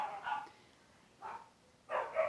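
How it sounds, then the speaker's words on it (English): A dog barks three times, sharp and mid-distance, with short quiet gaps between the barks. "Like the dogs in the neighbor's house."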